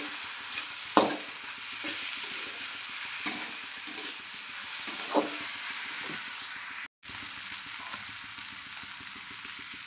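Small fish cooked village-style with ground mustard and green chilli paste sizzle in a pan, a constant frying hiss with occasional soft scrapes and knocks of a stirring spoon, one brief cut to silence, no talking.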